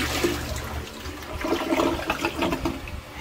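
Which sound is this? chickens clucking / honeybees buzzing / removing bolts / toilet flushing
toilet flushing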